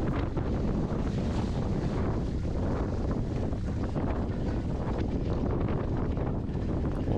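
Strong wind roars and buffets the microphone without pause during the 2023 Žemaitijos taurė mountain bike race in Telšiai, a dense, loud rush that fills the whole stretch with no voices.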